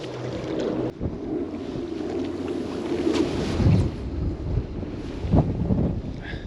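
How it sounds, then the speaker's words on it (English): Cold wind gusting steadily by a river, with broad low rumbling noise that swells and eases throughout and no voices. "which is why this wind has probably changed direction"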